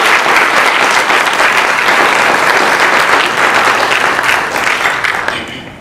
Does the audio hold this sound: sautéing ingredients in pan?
no